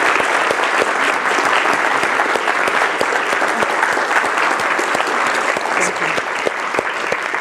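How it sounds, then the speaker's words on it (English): Audience applause after a talk on moiré materials, a dense, sustained clapping from a sizeable crowd that holds steady for several seconds before tapering slightly at the end. "we can give you a clap for this as well"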